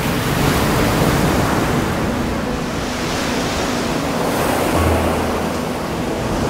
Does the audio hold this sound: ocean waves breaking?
yes